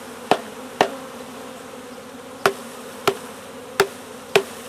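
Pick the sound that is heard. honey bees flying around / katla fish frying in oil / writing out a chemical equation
honey bees flying around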